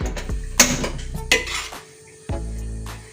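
A metal spatula scrapes and clanks against a large wok while mie goreng jawa noodles with vegetables are stirred, giving a few sharp knocks amid quieter scraping.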